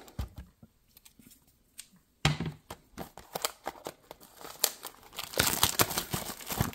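Cardboard and plastic wrapping of a Topps Chrome blaster box being torn and crinkled open up close, starting with soft rustling and then a loud sustained burst of ripping and crackling.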